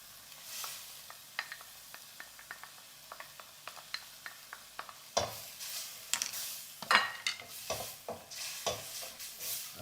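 A spoon stirring beef stock and water in a cooking pot, giving soft irregular scrapes and clinks against the pot with light sizzling, quiet and close.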